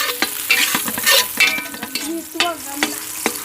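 Garlic sautéing in a pan, with bright crackling sizzle and sharp spattering pops, plus intermittent scraping and clinking strokes of a spatula, close and moderately loud with no voices.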